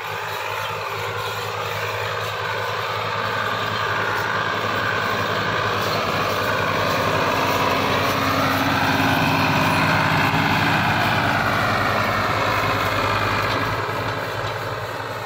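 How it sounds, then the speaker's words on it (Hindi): A 1993 Ford 4610 tractor engine runs steadily and loudly nearby with a constant low throb, working with a cultivator and with no speech over it. "ये साडा अपना ही ट्रैक्टर है"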